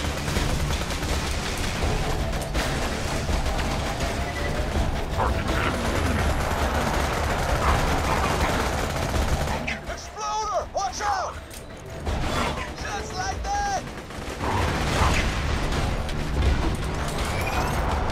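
Sustained gunfire in Borderlands 2 during a boss fight, dense continuous shooting and mechanical clatter throughout, loud and close, with a brief lull and some chirping effects midway.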